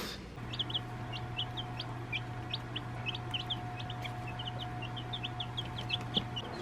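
Dense, steady high-pitched peeping from many small chicks, continuous and close, over a low constant hum.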